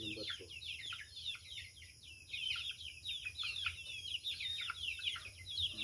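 Chicks being moved to a new coop give continuous high-pitched peeping and chirping, many birds at once, close and steady, with low background rumble.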